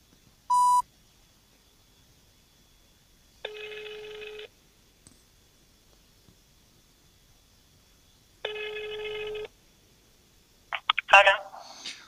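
A telephone call being placed: a short dialing beep, then two long, evenly spaced ringback tones in near silence, ending with a brief burst of sound as the line picks up.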